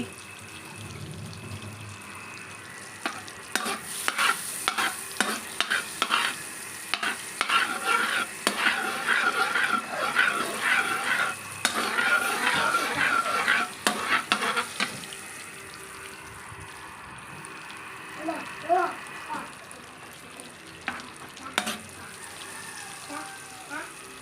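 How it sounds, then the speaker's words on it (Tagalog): Butter melts and sizzles in a pan with a steady soft crackle, broken by clinking and stirring sounds and brief bursts of running water. A voice speaks over parts of it. "Pabayaan lang natin na mag-melt yung butter bago tayo magsimulang mag-isa."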